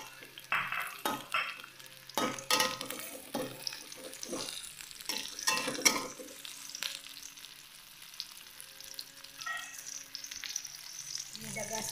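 Oil sizzles steadily in a pan as red chili fries while a utensil stirs and scrapes in irregular bursts, close and fairly loud, with no talking.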